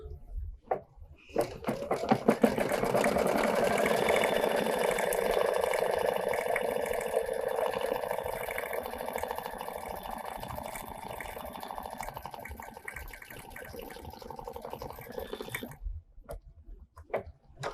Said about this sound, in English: Happy embroider sound.